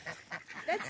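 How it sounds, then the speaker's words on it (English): An older domestic duck quacks nearby in a few short, nasal calls, loud and close, with no talking. "That's the older duck."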